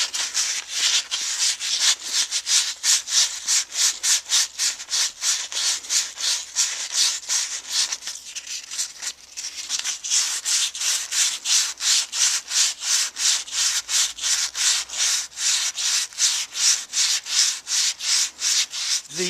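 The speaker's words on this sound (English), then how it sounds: "The next step is to clean off the shaft. I'm going to be using 320 grit fine" A roto tiller shaft being sanded by hand with 320 grit fine flexible sanding sheets gives a loud, rapid, rhythmic back-and-forth rasping, steady for nearly twenty seconds with a brief pause midway.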